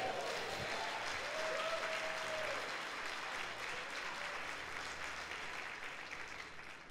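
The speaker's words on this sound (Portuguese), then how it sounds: "dê um aplauso a Jesus." A church congregation at a Sunday service breaks into steady applause, a broad wash of clapping that holds for several seconds and slowly tapers, with a few voices calling out over it.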